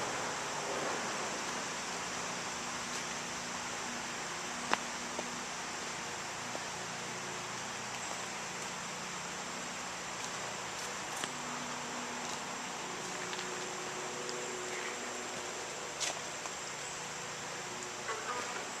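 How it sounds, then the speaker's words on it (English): A small garden waterfall spills steadily into a little pool in a corner of the garden beside a storage shed, giving a constant, even wash of water with no pauses and a few faint clicks over it. "There is a little pool and waterfall in this corner of the garden"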